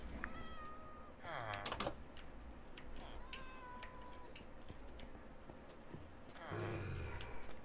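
A cat meows in the Minecraft video game, several short calls spread across the clip over a backdrop of game ambience and ticking sounds.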